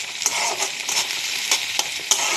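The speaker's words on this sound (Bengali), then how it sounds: "দেখো এখানে আমি সাদা জিরে, একটা শুকনো লঙ্কা আর পেঁয়াজ কুচি আর কাঁচা লঙ্কা দিয়ে আমি ভালো করে নেড়ে চেড়ে নিচ্ছি।" Cumin seeds, a dried chili, chopped onion and green chili fry in oil under a steady close hiss, punctuated by about six regular scrapes and taps of a spatula stirring the pan.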